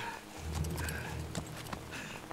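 A horse in the Metal Gear Solid 3 video game clip-clops close by with a short whinny, hoofbeats over a low droning game background.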